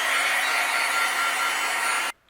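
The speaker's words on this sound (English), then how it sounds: "then I'll bring in my heat gun" A heat gun blows a steady, loud whirring roar while melting embossing powder on a stamped craft background, running continuously for about two seconds before cutting off abruptly into near silence.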